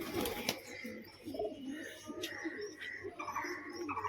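Domestic pigeons coo in soft, repeated low calls under a murmur of nearby voices, with a sharp flap or knock early on and chirpy bird notes scattered throughout.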